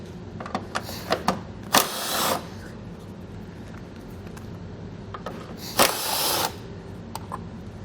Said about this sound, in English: We need to remove those 2 nuts. We'll use a 10mm socket.